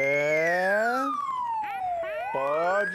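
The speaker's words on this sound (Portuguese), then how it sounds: "pode deixar a sirene ligada" A wailing emergency siren, police-style, rises and falls in long sweeping tones, loud and close, on a Brazilian TV news program.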